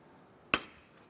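A plastic cap on a 2006-2013 Chevrolet Impala windshield wiper arm, pried with a small pick, snaps off in a single sharp, close click against quiet background.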